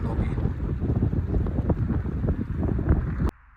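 Strong cold wind buffets the microphone on an open mountain road near a high pass, a loud continuous rumbling roar that cuts off abruptly near the end.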